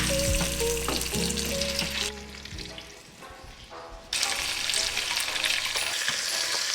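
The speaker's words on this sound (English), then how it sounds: "So a little bit of sizzle, probably skin down." Chicken pieces frying skin-side down in hot mustard oil, giving a loud, steady sizzle and crackle that dips briefly in the middle and then surges back up at full strength.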